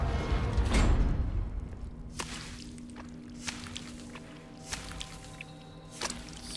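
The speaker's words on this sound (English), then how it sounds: "Something is dripping acid." Acid drips in Baldur's Gate 3, a few sharp wet splats spaced a second or so apart over a low ambient hum, after a louder whooshing thud at the start.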